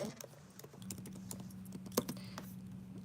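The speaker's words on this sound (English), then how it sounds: "I am typing away on my computer." Fingers type on a computer keyboard in quick, irregular clicks with occasional louder keystrokes. The sound is close but quiet, over a low steady hum.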